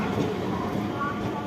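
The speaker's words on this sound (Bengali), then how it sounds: "ওটাও 12 বগির ট্রেন গেল" A 12-coach Sealdah local train passes at Dum Dum, giving a continuous broad rumble of wheels and carriages over the rails at moderate distance, with faint voices in the background.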